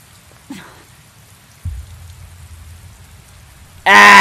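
Steady rain hisses in an outdoor boss arena in the video game Tales of Berseria, a low continuous wash with a couple of brief thumps, ending in a sudden loud burst of sound.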